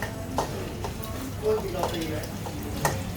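Garlic, about half a kilo, and cabbage are stir-fried in a pan for cabbage with fish sauce, the food sizzling steadily under several scraping stirring strokes while someone talks.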